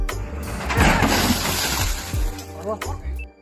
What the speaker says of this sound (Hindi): यहाँ ये नमूने गाड़ी से शीशा उतार रहे थे और इन्होंने एक झटके में गुड़ का गोबर कर दिया।